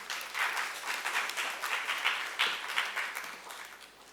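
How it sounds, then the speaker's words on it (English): Audience applause for dignitaries at the inaugural session of the Odisha Art & Literature Festival, a steady wash of many hands clapping that carries on for several seconds at moderate loudness with no voices. "A big round of applause for our dignitaries."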